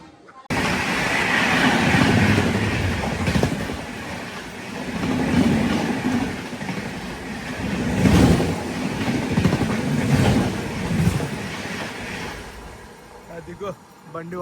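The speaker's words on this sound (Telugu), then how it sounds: "అదిగో బండి ఓవర్టేక్ చేసింది." The Chennai-Bhubaneswar train rushes past on the adjacent track, a steady loud rumble and rattle of wagons that surges and fades for several seconds before dropping off.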